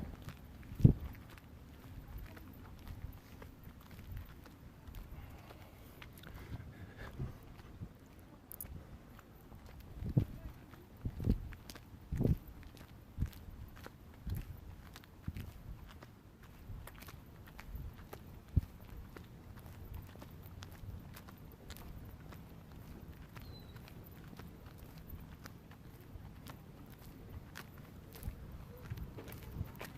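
Faint footsteps shuffle and scrape along a spongy sidewalk, with irregular soft thuds and some quieter, sparser stretches.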